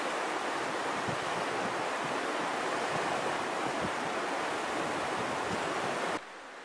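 Waves wash steadily along the Lake Superior shore in the Porcupine Mountains, a continuous full roar of surf with no voices. The sound drops sharply in level just before the end.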